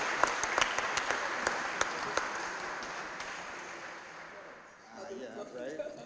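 Applause at an award ceremony: a burst of scattered clapping with sharp individual claps that thins and fades over a few seconds, followed by someone starting to speak.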